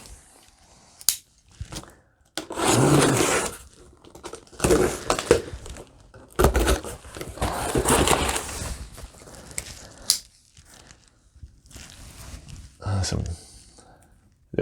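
A dull knife saws and tears through cardboard and packing material while unboxing an UpLift standing desk, with bursts of scraping, crinkling and ripping close up between pauses.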